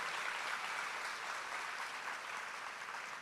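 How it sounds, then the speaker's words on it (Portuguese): A church congregation applauds steadily for the whole stretch, a dense, even wash of clapping from many hands filling the room without a break or any talk. "Pode aplaudir, pode aplaudir."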